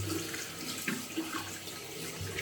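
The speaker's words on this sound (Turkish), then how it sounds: "Şimdi yüzümüzü yıkayacağız." Water runs steadily from a bathroom tap while a face is washed after a wet shave, a close continuous splashing rush with a few brief splashes of hands in the stream.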